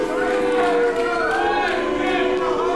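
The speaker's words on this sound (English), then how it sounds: "the crowd is booing it" Booing from a wrestling crowd at an Unlimited Wrestling show reacts to a wrestler stalling, heard as a loud, sustained wall of jeering voices that holds steady without a break.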